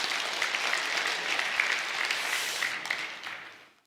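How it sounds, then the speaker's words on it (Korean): Church congregation applauding during a Sunday worship service, a steady, dense wash of clapping that carries on for several seconds before trailing away. "박수 한번 해주세요."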